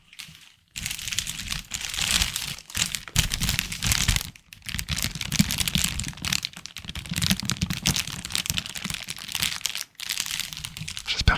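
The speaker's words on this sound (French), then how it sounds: "Et aussi, j'ai du papier bulle." Bubble wrap crinkles and crackles up close in irregular bursts, with a few brief pauses between handlings.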